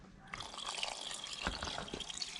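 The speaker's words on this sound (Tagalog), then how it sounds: "Okay, lagyan ko lang konti tubig." A little water poured into a cooking pot of vinegar-braised fish stew, a soft liquid splash and trickle lasting about two seconds, close and fairly quiet.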